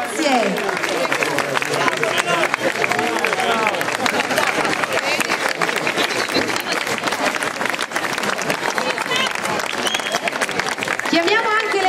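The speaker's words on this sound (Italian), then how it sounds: "Un applauso a tutte le concorrenti" A large crowd at a beauty pageant applauds loudly and steadily, with cheers and chatter mixed into the sustained clapping throughout.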